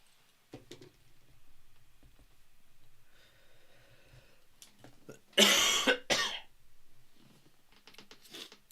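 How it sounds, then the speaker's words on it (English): A man in a live football watchalong stream gives a harsh, close cough in a couple of loud bursts, with quieter breathing and throat sounds around it. "Apologies about the cough, guys."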